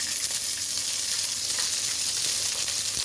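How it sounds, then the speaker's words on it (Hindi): Green chillies and garlic fry in oil in a pan, giving a steady, loud, close-up sizzling hiss that carries on evenly throughout with no voices. "अब अपन इसमें ने थोड़ा तेल ऐड करेंगे मिर्चियाँ और लहसुन भूनने के वास्ते।"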